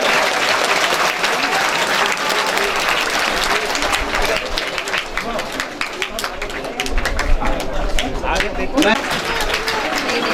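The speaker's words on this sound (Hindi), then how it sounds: "मैडम के लिए भी जोरदार तालियों से स्वागत" Loud, sustained applause from a large crowd at a retirement function fills the whole stretch, dense clapping with a few voices mixed in.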